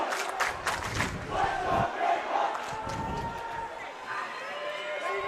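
Crowd noise from spectators at a high school hockey game in the Halvorsen Cup Final, a steady roar with rising cheers and shouts throughout, with a commentator's voice partly heard over it.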